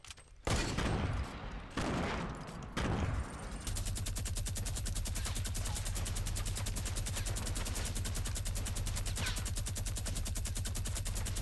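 A light machine gun in Fortnite Battle Royale fires several short bursts, then unloads in one long, rapid, unbroken stream of shots, loud and close throughout.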